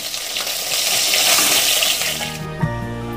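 Snakehead fish frying in hot oil make a loud, dense sizzle that fades away near the end as a clink and a low resonant tone come in.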